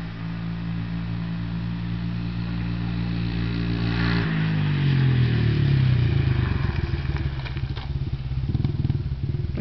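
A 2002 Honda 70cc manual dirt bike engine runs close by with a steady putter, then revs up into a louder, rougher crackling drone before easing to a sputtering idle.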